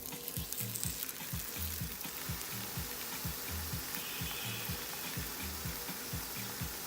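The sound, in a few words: butternut squash flatbread cooking in grapeseed oil in a pan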